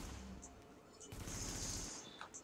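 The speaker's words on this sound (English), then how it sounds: "I've noticed that the automatic weapons fire really well." Rapid automatic weapons fire from The Division video game, a quick run of low, thudding shots in a steady burst lasting about a second, fairly faint, with a few higher clicks and effects around it.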